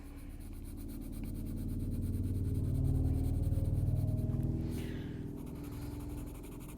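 A pencil shades on paper with continuous rapid back-and-forth scratching strokes, close and fairly quiet, swelling slightly in the middle before easing off.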